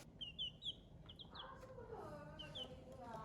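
Baby chicks kept at home peep in quick, high, repeated chirps, close and clear, with soft background sound and a faint voice partway through.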